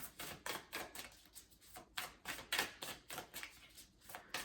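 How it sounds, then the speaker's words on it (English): Rapid, rhythmic flutter of thick tarot cards being riffle-shuffled repeatedly, crisp clicking bursts at a steady pace, fairly quiet and close. "It even shuffles nice."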